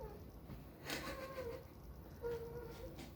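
A house cat meows a few times indoors, short tonal cries rising over a quiet room, the first near one second and another around two and a quarter seconds, fairly soft and close.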